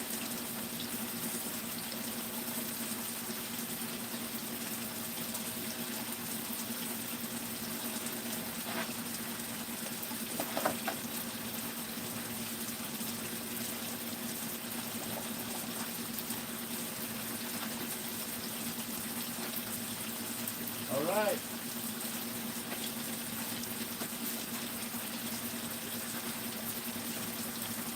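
A Gold Magic gold recovery machine runs with water at a new gold claim, giving a steady wash of flowing, bubbling water throughout, with a couple of brief louder splashes and a short spoken phrase.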